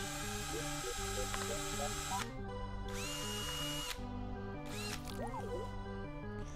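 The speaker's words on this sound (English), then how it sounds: "And then we take the drill." A surgical drill whirs during an operation scene in the video game Metal Dead, coming in loud bursts over a steady droning game score, with short breaks between them.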